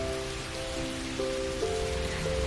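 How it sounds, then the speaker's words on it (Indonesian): Rain falls in a steady, even hiss of drops on a surface, with soft sustained musical tones running underneath throughout. "Hujan turun seperti bisikan maaf yang terlambat."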